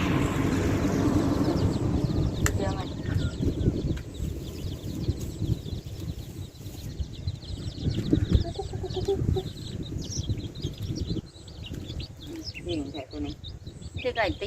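Roosters fighting at a Thai cockfighting setting, with a continuous busy mix of bird calls, scuffling and crowd noise, people talking throughout.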